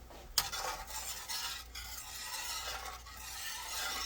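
A spoon stirs a small bowl of sauce seasoning with sugar, scraping faintly and steadily against the bowl, quiet and close, with no talking.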